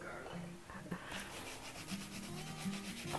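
Garlic clove rubbed onto toasted bread for Polish sorrel soup toppings, a soft continuous scraping and rubbing in short strokes, close and fairly quiet, with faint tonal kitchen sounds behind.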